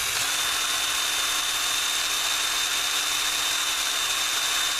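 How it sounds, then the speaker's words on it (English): A cordless power drill bores steadily through a part while modifying a rebuildable dripping atomizer, giving a continuous, even high-pitched whine with a hissing grind and no pauses or speech. "This is the cordless drill."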